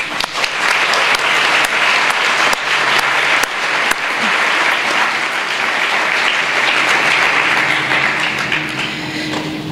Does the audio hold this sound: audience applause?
yes